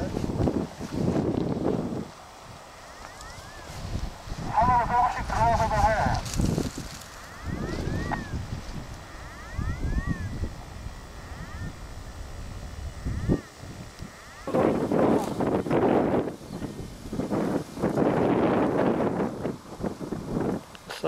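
Wind gusts buffet the microphone by the sea off Ulsan near Muryongsa, a broad rumbling roar that swells and fades, with people talking and calling out between the blasts.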